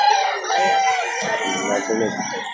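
A rooster crows loudly and close among farm chickens at a poultry breeder's yard in Lipa City, Batangas, its drawn-out call overlapping soft clucking from the hens nearby.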